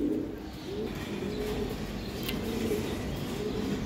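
Jira-throated Giribaz racing pigeons coo steadily in soft, repeated rolling phrases, close and continuous over a low hum, with a brief faint chirp.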